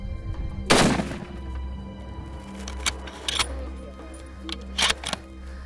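A rifle shot fired at a red lechwe, an African antelope, on an outdoor hunt: one sharp, loud crack early on, followed by a few faint clicks and knocks over a low, steady background hum.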